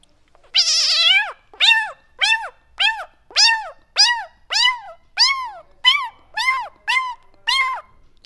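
A Chhattisgarhi mimicry artist imitates a cat with his voice, giving a long opening meow followed by about ten short, evenly spaced meows, all close and clear with nothing behind them.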